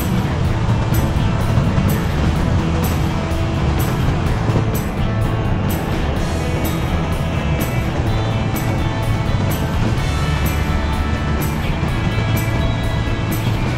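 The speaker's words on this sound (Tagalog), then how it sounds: "Ang lakas ng alon doon, oh." Strong ocean waves roll in at Paradiso de Casiguran beach in Aurora, a steady loud broadband roar of surf lasting the whole stretch with no voices over it.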